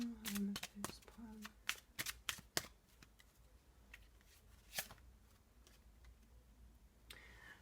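A deck of tarot cards is shuffled in a burst of quick crisp riffles, then a single card is slid out and set down, close and fairly quiet, with brief soft speech early on.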